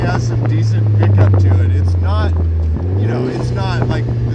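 Engine of a 2017 Vanderhall Venice three-wheeler pulling hard, a loud steady low drone that dips briefly mid-run then climbs again, with people talking over it throughout.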